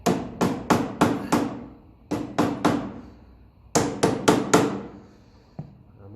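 A hammer taps a part straight on a Massey Ferguson 35 tractor: three sharp groups of metallic blows, five, three and four strikes, close and ringing, with one lighter tap at the end.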